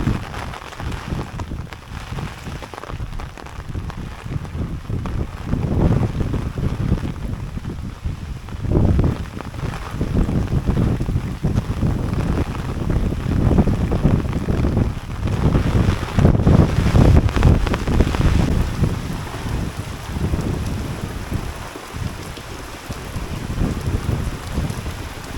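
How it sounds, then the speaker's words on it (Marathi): Heavy rain is driven by strong wind over a Konkan farm after sowing, with a continuous patter of drops and loud gusts buffeting the microphone in uneven surges. "खूप पाऊस पडतोय आणि वारा पण खूप आहे."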